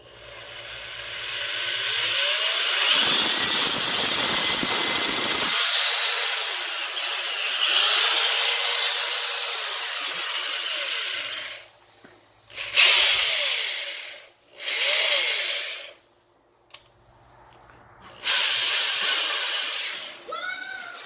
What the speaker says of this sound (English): the adjustable speed is by pressure on the drill